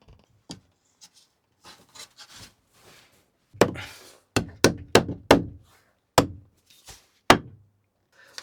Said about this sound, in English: Light tap with a hammer and pretty well secured.